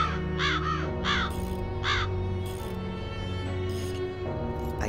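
Raven cawing in the Black Mirror II adventure game near an old well, a run of harsh repeated caws in quick bursts, then a few more spaced calls over a steady low ambient drone.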